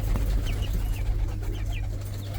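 Quail and newly hatched quail chicks make a few short, high chirps over a low steady hum, soft and close.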